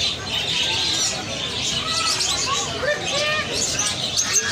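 Pigeons coo and birds chirp continuously amid a busy background of people talking nearby at Empress Market, a bird and animal market in Saddar, Karachi.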